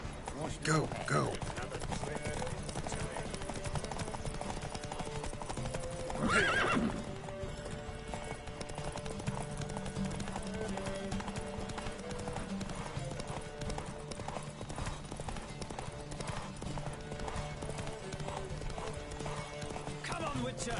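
Horses gallop in a race in The Witcher 3 game, a rapid, driving clip-clop of hooves that keeps going the whole time with an occasional whinny, loud and close, while voices call out over it.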